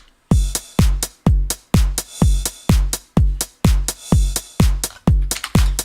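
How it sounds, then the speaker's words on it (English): A Roland 909 drum machine plays a steady four-on-the-floor pattern with punchy booming kicks and bright hi-hat and snare hits, plus an added Roland 707 kick, loud, close and repetitive with no voices. "what we're looking at here is just a regular 909 pattern with one 707 kick"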